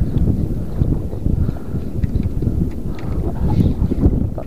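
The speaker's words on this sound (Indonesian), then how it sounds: "angin-anginnya datang dari sana terus berembus ya" Steady wind gusts across a seaside fishing spot lined with tall seaweed, a continuous low rumbling roar buffeting the microphone with no talk.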